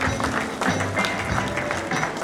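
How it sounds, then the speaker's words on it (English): An audience applauds a new chairman at a Lagos Mainland society ceremony, with steady, moderately distant clapping that fills the whole moment. "Please give him another round of applause."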